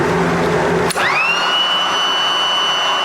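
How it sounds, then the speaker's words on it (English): A Ryobi battery-powered blower, running on a replacement battery, clicks on and spins up with a rising whine, then holds a steady, close airy roar for the rest of the clip. "we have a successful fan, or blower"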